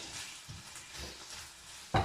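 A spoon stirs tomato paste into a hot cooking pan, giving soft scraping and a faint sizzle, with a sharper clink of the spoon near the end.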